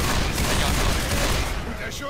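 Gunfire in the Left 4 Dead 2 hospital level, a dense burst of shots running steadily for about two seconds and easing slightly at the end, with voices mixed in.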